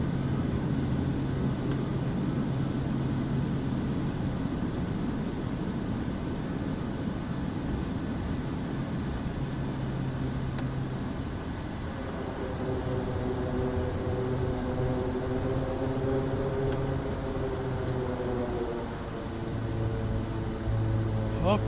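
Steady propeller aircraft engine drone in Microsoft Flight Simulator 2024, in either a DC-3 or a Kodiak 100, runs continuously at moderate level, then its pitch climbs in rising harmonics as power is added partway through.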